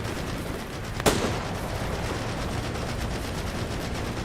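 Video game gunfire: a single sharp, loud shot crack rings out about a second in, followed by a continuous noisy rumble of game sound with no talking.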